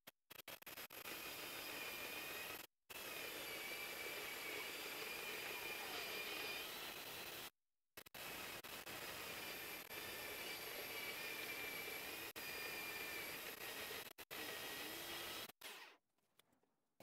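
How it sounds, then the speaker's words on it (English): A bandsaw slicing small metal tabs off a workshop tool gives a loud, steady rushing whine that runs almost continuously, broken by a few short pauses, then fades out at the end. "So I'm gonna cut these little tabs off because I never use this thing, and it'll be handy on this bandsaw."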